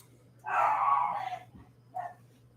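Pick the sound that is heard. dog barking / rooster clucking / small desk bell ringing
dog barking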